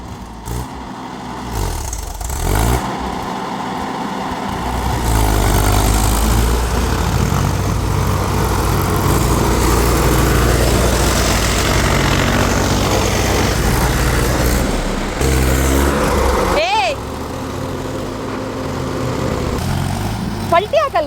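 A tractor engine ploughing a field, a loud sustained diesel drone that rises and holds for long stretches, with people talking over it.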